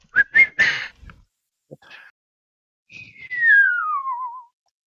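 In an F-14B flight video game, a caterpillar drive gives a thin, clear whistle that glides steadily downward for about a second and a half, following a few softer chirps and hisses.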